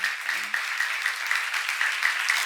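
A congregation claps at a church seminar in steady, moderately distant applause that carries on evenly, with a low voice briefly heard at the start.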